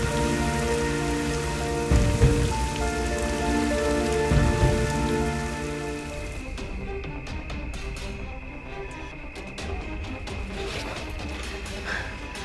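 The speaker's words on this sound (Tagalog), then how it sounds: "Ang lakas ng ulan." Heavy rain pours down steadily and loudly, a dense continuous hiss of drops on surfaces with a couple of heavier thudding bursts early on.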